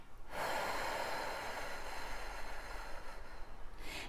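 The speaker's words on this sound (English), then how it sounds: "And as you exhale" A long, deep exhale during a guided breathing meditation, a close, steady breathy rush lasting several seconds before tapering off, with no talking over it.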